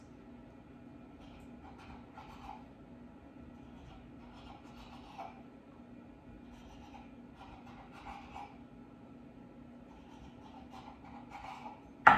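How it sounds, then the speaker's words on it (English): Quiet, rhythmic crunching as a knife chops bread into crouton-sized pieces, each stroke coming at a steady pace every second or so. "Now I'm going to be chopping up the bread into crouton size."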